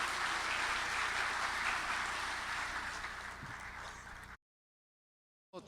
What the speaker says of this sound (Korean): 여러분 먼저 박수를 부탁드리겠습니다